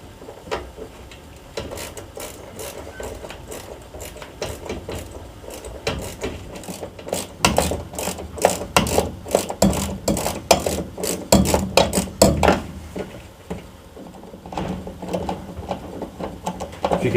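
A long 1/4-inch nut driver backs screws out of a Goodman Amana furnace draft induction blower, a close, busy run of rapid ratcheting clicks and metallic ticks that speeds up in the middle, with no talking.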